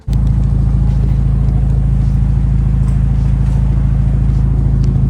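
Genesis Coupe car driving on the road, a loud, steady low engine rumble with constant road noise from inside the cabin, unbroken throughout.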